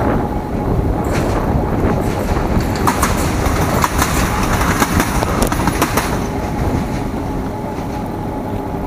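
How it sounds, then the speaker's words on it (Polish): A train passes by on the rail line while an e-bike rides along a road toward the coast, a loud rumbling clatter with rhythmic wheel clicks, mixed with wind buffeting the microphone, building and then easing away. "to nawet jakiś pociąg jedzie, ale w przeciwnym kierunku"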